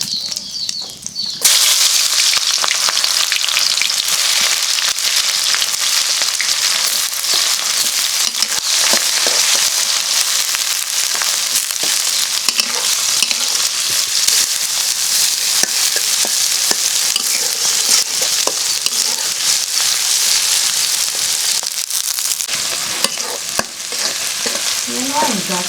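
Onions with cumin fry in soybean oil over a clay stove, a loud, close, continuous crackling sizzle broken by stirring scrapes, with no talking.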